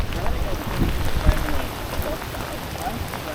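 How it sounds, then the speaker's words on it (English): Steady rain falls during a storm at an outdoor riverside fishing spot for Murray cod, a dense even patter close to the microphone with a few louder drops, running throughout without talk. "Bit of rain out here"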